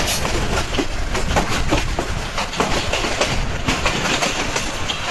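Allama Iqbal Express running between Sialkot and Lahore, loud steady rumble with rhythmic clickety-clack of wheels over rail joints heard from inside the carriage, continuous throughout.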